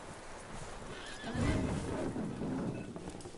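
Horse in Red Dead Redemption 2 lets out a loud whinny, with the clomp of hooves building through the middle and carrying on to the end, close and fairly loud.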